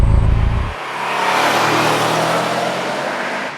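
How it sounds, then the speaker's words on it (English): A first-generation Subaru Impreza WRX STI with an EJ20G boxer engine and unequal length headers, a loud close engine rumble that swells into a sustained rev, after a brief low thump at the start. "the unequal length headers that are on this engine give it that very unique boxer rumble"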